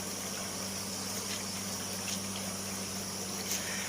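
A creek flows in a rural countryside setting, a faint, steady wash of running water with a low constant hum beneath it and no voices.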